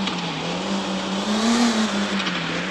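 A car speeds along in the video game Car Simulator 3D, its engine holding a continuous loud whine that climbs slightly in pitch midway and then settles, with no talking.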